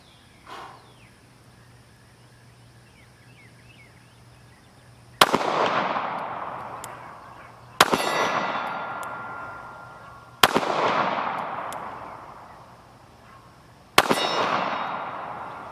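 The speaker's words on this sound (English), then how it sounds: "SpringField HellCat, 13 rounds, 25 yards from the target, steel target." Four sharp gunshots from a Springfield Hellcat handgun ring out at an outdoor range, spaced a few seconds apart, each a loud crack with a long echoing decay and steel target clang at 25 yards.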